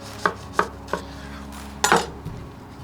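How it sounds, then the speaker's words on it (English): A knife chops through a grilled burger cooked on an Elite barbecue smoker, with three crisp cuts at a steady pace, a pause, then a louder cluster of cuts and a final soft tap on the board. The sounds are close and there is no talk. "Let's slice it up and see what it tastes like."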